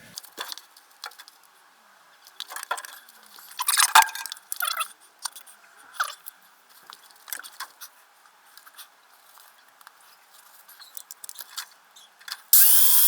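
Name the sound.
cutting out a body panel of a 1958 Renault Dauphine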